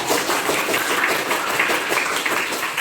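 Dense classroom applause from many students clapping steadily, a continuous rustling wash of hand claps with no pauses, fairly loud and close.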